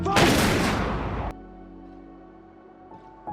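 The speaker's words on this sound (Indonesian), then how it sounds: "tembakan pun dilepaskan" A firing squad fires a sudden loud burst of simultaneous gunshots, a single volley, cutting off abruptly into quiet low rumbling ambience.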